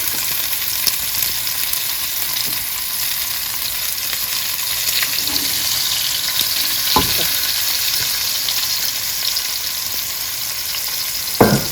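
Steady sizzling and crackling of oxtail frying in hot oil, continuous and close, with an occasional clink of a utensil stirring the pan.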